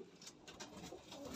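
Racing pigeons coo softly inside a loft, their low murmuring calls faint and continuous against a quiet indoor background with no voices.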